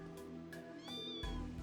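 A cat meowing in the video game Trails Into Reverie, a couple of short high meows over steady game music, clear and up front.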